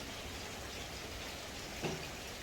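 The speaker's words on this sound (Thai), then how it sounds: "ฝนก็ตกครับนี้" Steady rain falls around a home at an outdoor spot with a wooden bridge, a constant even hiss throughout with a brief faint knock near the end.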